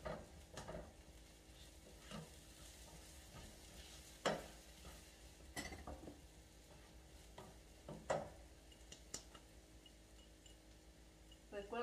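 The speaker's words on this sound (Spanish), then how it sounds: "le voy a poner el ajo." Garlic hits a hot pan for a ranchero-style beef steak dish, giving a low frying hiss with scattered stirring clicks and a few sharp utensil taps, fairly faint and close, with no talk over it.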